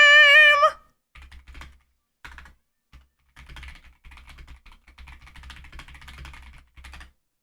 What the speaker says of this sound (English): Sorry, I know you can hear me typing.